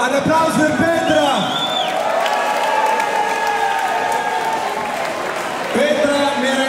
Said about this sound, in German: Ein Applaus für Petra.